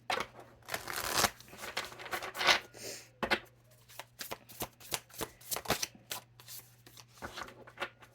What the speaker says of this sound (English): I want to pull a star seed oracle card.